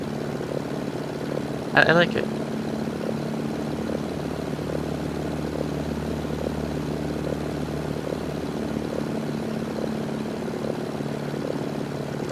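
Warbird propeller plane flying in a video game, a steady low engine drone running throughout, with a brief sharp click near the start and a voice speaking briefly over it.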